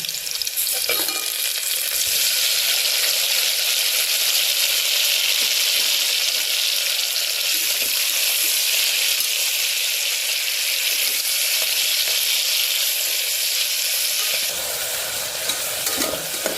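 Onion, garlic and tomato sautéing in a pan give a loud, continuous sizzle with a faint crackle, steady throughout and briefly dipping near the end.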